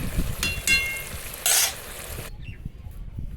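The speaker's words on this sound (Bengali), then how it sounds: "এবার উপর থেকে আপনার উচ্ছে ভাজাগুলো দিয়ে দিলাম" Food sizzles in a simmering pot while fried bitter gourd is stirred and dropped in with a couple of brief clattering scrapes, then the sizzle quiets abruptly.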